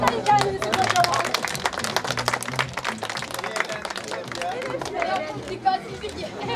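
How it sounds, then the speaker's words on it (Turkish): An audience applauds itself at an education event, a thick burst of clapping mixed with lively chatter and children's voices, close and fairly loud throughout. "Alkışlayın kendinizi kocaman."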